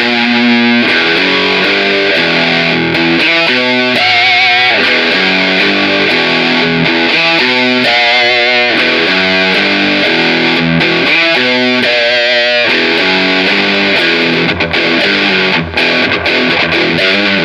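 A heavily distorted electric guitar plays a chugging riff through a cheap amplifier fitted with an expensive speaker, loud and continuous, with repeated palm-muted patterns and sustained chords.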